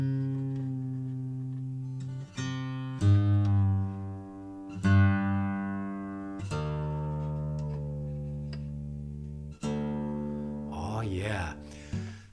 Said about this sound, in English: See, this is the sound of Goodall's.